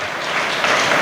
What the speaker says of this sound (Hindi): ताली बजा के अपने परमेश्वर का करें